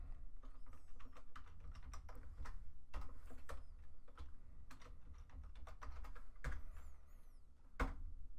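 Keys on a computer keyboard clack in quick irregular bursts as a password is typed, with a steady low hum underneath and brief pauses between runs of keystrokes.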